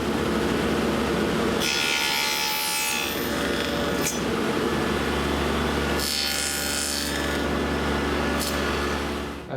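Wooden muntins for a display cabinet are cut with a power saw, producing loud bursts of whining, rasping cutting separated by quieter stretches of the machine running, close and without talk.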